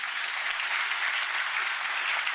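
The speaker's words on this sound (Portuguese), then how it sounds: "Aplauda bem forte ao Senhor" A church congregation claps loudly and steadily, a dense, even wash of applause with no break.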